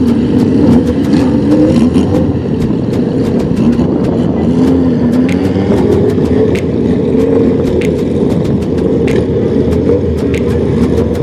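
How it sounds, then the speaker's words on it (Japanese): Motorcycles arrive at a classic vehicle festival in Omaezaki, Shizuoka, with a loud continuous engine drone and shifting revving tones from several nearby bikes, dotted with sharp clicks and knocks. "続々とバイクが増えていきます。"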